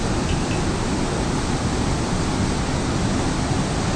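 Heavy river water rushing through open dam flood gates at Harike headworks in Punjab during a flood, a loud, steady, unbroken roar filling the air with no voices.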